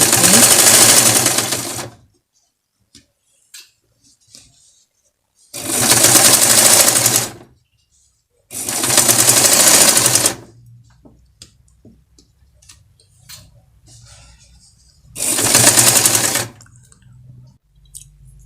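A sewing machine stitches a zipper in four loud, close bursts of rapid whirring, each lasting one to two seconds, separated by quiet pauses with faint clicks and handling noise.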